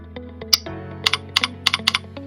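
Brisk clicks of a computer keyboard as someone types into a search box on a web portal, a quick irregular run of close, crisp keystrokes with no voices.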